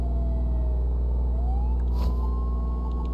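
A wailing siren from an ambulance in the video game Flashing Lights rises and falls over a heavy, constant engine rumble. It sounds fairly close and steady, with no voices.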